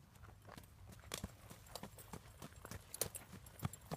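Horse hooves clip-clop at a steady trot during a riding lesson, regular rhythmic hoofbeats at moderate distance, fairly faint against a quiet outdoor background.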